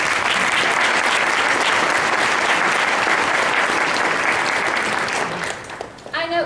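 A school auditorium audience applauds honor society members at a middle school induction ceremony, a dense, loud round of clapping that fades near the end as a voice begins to speak.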